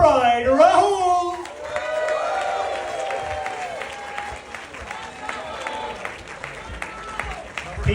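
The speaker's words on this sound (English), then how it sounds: "ladies and gentlemen, you have to basically keep clapping until he takes the microphone away from me" An audience at a wedding reception keeps up sustained applause and crowd noise while someone talks loudly over it, probably through a microphone.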